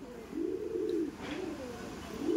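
Kaldom pigeons coo in a steady, rolling rhythm, with several low, rounded phrases repeating close by over a quiet background.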